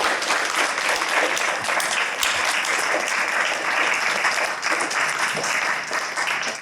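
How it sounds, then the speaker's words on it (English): A large audience at a poetry reading with translators applauds continuously, a dense, loud, even wash of clapping that holds steady throughout. "Please, some more applause for Lyudmila Khersonska, Boris Khersonsky, Ilya"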